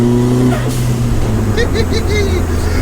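A car engine revs up and rumbles loudly nearby with some whining mechanical tones, a voice talking briefly over it.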